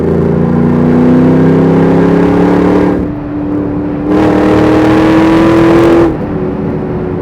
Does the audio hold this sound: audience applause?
no